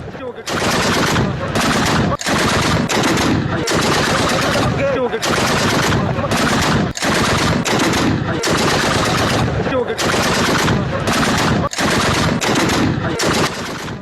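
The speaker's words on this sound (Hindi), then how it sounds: "पाकिस्तानी पोस्ट पर कैसे अफगान सेना ने ताबड़तोड़ गोलीबारी की है" Afghan forces firing a machine gun at Pakistani border posts, with loud, close bursts of automatic fire repeating in quick succession, separated by brief gaps, continuing without a break in the pattern.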